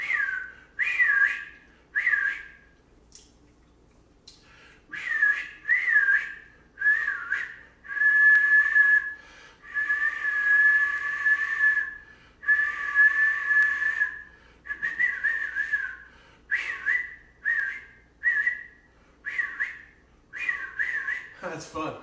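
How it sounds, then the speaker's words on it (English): A man whistles a tune in clear, sustained, high-pitched phrases separated by short pauses, close and alone, over roughly twenty seconds. "I ain't whistled in a while."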